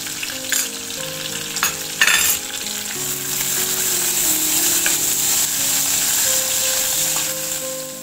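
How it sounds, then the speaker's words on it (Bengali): Whole black peppercorns and cumin seeds sputter and sizzle steadily in hot oil for a Bengali fish curry tempering, a close, continuous frying hiss with a few sharp pops and faint utensil clinks. "ফোড়নটা যখন আমাদের বেশ একটু স্প্লাটার করতে শুরু করেছে"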